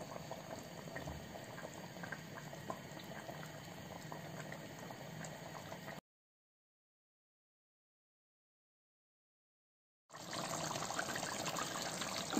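Marinated oxtail boils steadily in a pot, a dense, continuous bubbling heard up close, broken by a stretch of complete silence before the boiling resumes.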